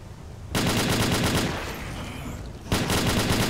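Gunfire in S.T.A.L.K.E.R. Call of Pripyat, two loud sustained automatic bursts with rapid rhythmic shots and a brief quieter lull between them, close and dense, with no speech.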